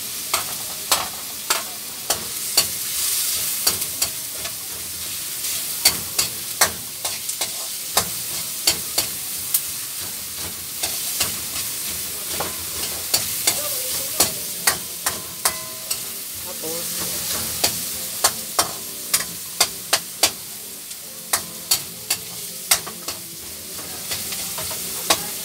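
Garlic and onion sauté in a pan for chicken adobo, sizzling steadily under regular sharp clinks and scrapes of stirring throughout, with no talk.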